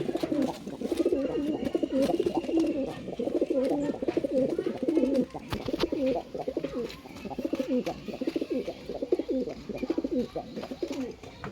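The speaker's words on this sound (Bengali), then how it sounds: "খুস্ক পাঞ্জা পায়রায় খুব ভালো এবার এটা খোপে দেখাবো" Khusk panja pigeons in a coop coo in an almost continuous chorus of overlapping, throaty calls, near and fairly loud, with brief dips between bursts and no talk.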